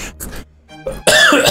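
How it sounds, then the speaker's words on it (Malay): A few short coughs followed by a harsher throat-clearing burst, close and loud. "Minta maaf, masih batuk lagi."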